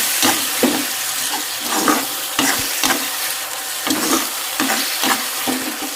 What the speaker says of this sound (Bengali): এতিয়া হাই ফ্লেমতে অকণমান পাঁচ মিনিটমান ভাজি লওঁ